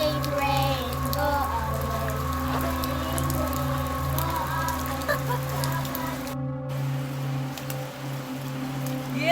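Steady rain falls on a surface with scattered drops, a continuous moderately loud patter under a low hum, with faint voices now and then.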